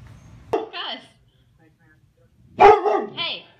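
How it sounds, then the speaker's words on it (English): A dog barks in two short bursts about two seconds apart, close and loud, during a homecoming reunion with a returning soldier. "Hey, don't bark."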